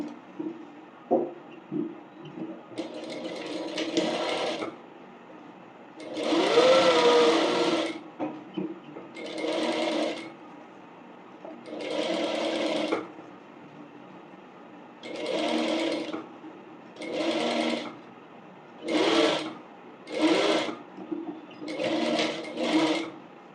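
Sewing machine stitching a half-inch seam around the curve of a fabric bonnet, running in repeated close bursts of whirring separated by short pauses, loud and steady, with no talking.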